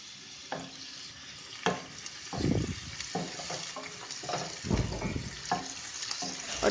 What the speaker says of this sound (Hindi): ऑयल गर्म होने पर इसमें हरी प्याज डाल देनी है